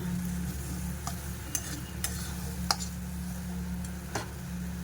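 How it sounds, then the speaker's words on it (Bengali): Spice paste for a fish curry frying in a pan with a steady low sizzle, broken by a few sharp scrapes and taps of a spoon stirring it, close and moderately quiet, no voices. "জলটা দিয়ে আবার ভালো করে কষিয়ে নেব যতক্ষণ না মশলা থেকে তেল ছাড়ছে"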